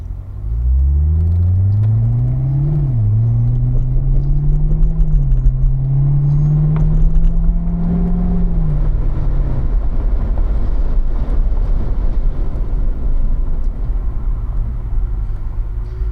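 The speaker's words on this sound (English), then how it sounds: "But you can even feel it downshifting a little bit right Yeah. there." A car with an automatic transmission driving in drive mode, its engine note rising and falling through gear changes and downshifts, then settling into a steady low rumble of road and cabin noise.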